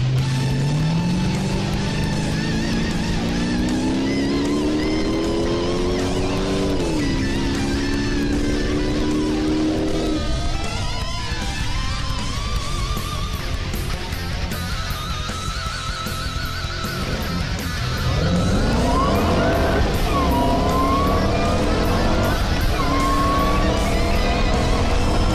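A Shelby Super Snake and a Dodge Challenger make a 0-100-0 run, with a loud V8 howling up through several gear shifts, a quieter stretch under braking, then more hard acceleration.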